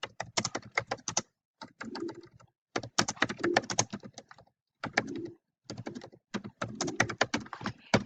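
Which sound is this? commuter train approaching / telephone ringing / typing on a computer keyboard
typing on a computer keyboard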